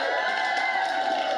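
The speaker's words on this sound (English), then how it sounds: "Make some noise, women." Comedy show crowd of women cheers and whoops loudly in a brief, continuous burst of shouting.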